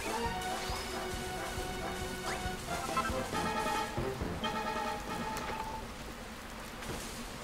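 Rain patters steadily in Dragon Quest Builders 2, a soft continuous hiss broken by scattered plinks and clinks of game sound effects, running the whole stretch at low volume.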